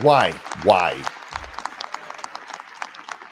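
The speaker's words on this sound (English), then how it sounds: "He's giving himself a standing ovation right now." Audience in the House chamber applauds, scattered clapping continuing after a loud voice speaks over the start, the claps sparse and fairly distant.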